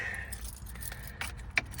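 Car keys jangle briefly and close by, with a few light metallic clinks and one sharper jingle near the end, heard alone over a quiet garage background.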